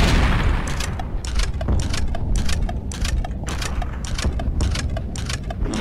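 Explosions in the game Blood & Bacon, a heavy blast at the start followed by a long run of rhythmic booming impacts and crackling bursts, loud and continuous.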